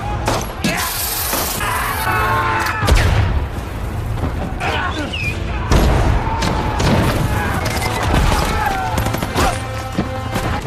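US Navy cannon bombardment in the war film Hacksaw Ridge: repeated heavy booms and blasts with debris and crackling, loud and continuous, mixed with battle noise.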